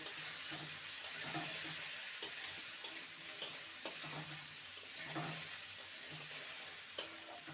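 Ginger and green chili paste sautéing with fried potatoes for a papaya dish, a soft continuous sizzle broken by scattered light clicks and scrapes of a spatula against the pan.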